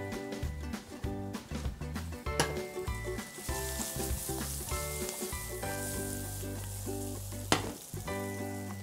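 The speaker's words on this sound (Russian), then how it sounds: "Нам нужно, чтобы лук хорошенечко обжарился." Onions sizzle and fry steadily in butter in a pan while potatoes are prepared, a dense crackling hiss with occasional stirring clatters and one sharp knock near the end.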